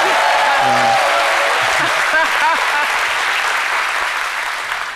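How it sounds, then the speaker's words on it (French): Loud, steady applause fills a room as a French-speaking audience claps for a man being welcomed, a dense wash of hands with a few brief voices, fading slightly at the end. "Je veux qu'on applaudisse bien fort."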